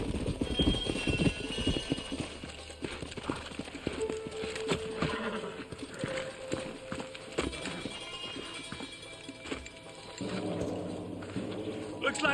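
Horses clip-clop along in the video game Red Dead Redemption, steady hoof beats with a whinny and snorts amid game ambience, while characters talk over the scene.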